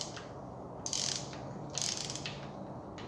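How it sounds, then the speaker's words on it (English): A ratchet wrench clicks steadily while undoing the connecting rod bolts on a Chrysler 360 V8 engine being dismantled after it threw a rod, with two brief louder bursts of rapid ratcheting amid continuous close mechanical clicking. "see if I can get these rod bolts undone"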